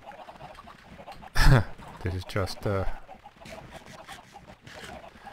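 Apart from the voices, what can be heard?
chickens clucking in Minecraft Tekkit chicken farm, video game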